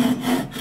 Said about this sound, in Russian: Давайте вот отрежем кусочек этой деревяшки.